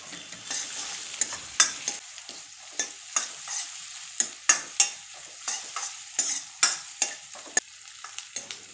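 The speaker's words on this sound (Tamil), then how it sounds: "ஒரு வெங்காயத்தை நீல வாக்கில் சேர்த்துக்கோங்க. சேர்த்துட்டு நல்லா வதக்கிக்கோங்க." Sliced onions sautéing in a pan for a vegetable curry, a soft background sizzle punctuated by frequent sharp scraping clicks of a spatula stirring, close and moderately loud, no voices.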